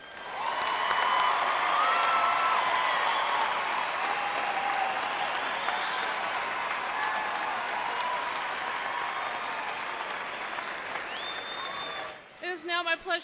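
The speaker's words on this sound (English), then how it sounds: "Let's give all of our graduates a round of applause." Sustained audience applause for graduates at a Western Illinois University College of Education and Human Services commencement ceremony, a dense, steady wash of clapping with scattered cheers lasting about twelve seconds before fading out abruptly.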